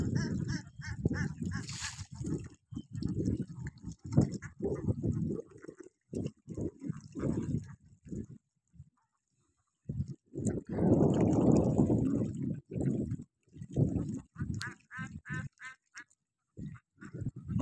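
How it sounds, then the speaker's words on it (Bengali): Domestic ducks forage across the Halti beel wetland in Naldanga, Natore, giving repeated bursts of quacking and calls that come and go, moderately close, with short quiet gaps between them. "এখানে সারাদিন হাঁস এখানে বিচরণ করবে"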